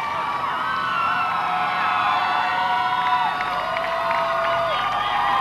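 Spectators line the streets of central Chicago at the 2002 Chicago Marathon, a dense, steady wash of cheering, whoops and shouts that holds at an even level throughout.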